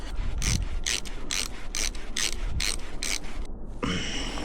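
A hand ratchet drives a 12mm bolt back into a 2015 Yamaha F115XB outboard motor, giving a rapid run of about nine evenly spaced, crisp clicking bursts close to the mic, then a brief pause and a final rasp.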